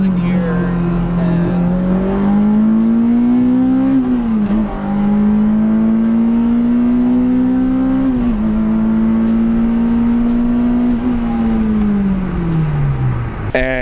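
A Honda Civic EP3 Type R engine rumbles loud and steady, its pitch climbing in quick blips as the driver downshifts twice, then settling and fading lower near the end.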